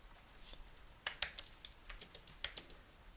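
Quick, light keystrokes on a computer keyboard as code is typed, a short irregular burst of crisp, close clicks starting after a quiet moment, with no talking.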